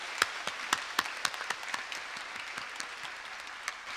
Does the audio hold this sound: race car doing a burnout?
no